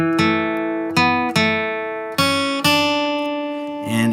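A short flatpicked acoustic guitar melody from the bluegrass tune 'Red Haired Boy', bright and close, each note ringing clearly before the next, ending with a brief strum.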